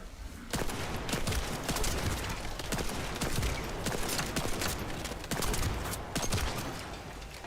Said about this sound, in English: This is practically a sniper rifle.